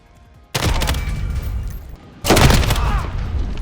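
Two loud, dense bursts of gunfire in Call of Duty Warzone, close and sustained, each lasting over a second, separated by a brief lull.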